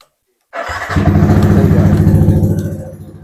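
A Yamaha 15 V3 sport motorcycle engine starts and settles into a steady, smooth idle, loud and close, with a low even rumble that fades slightly near the end.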